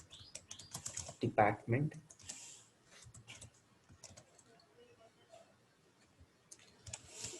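Computer keyboard typing while writing an SQL create table statement for a department table, with a loud burst of keystrokes early on, then lighter scattered clicks under a person talking.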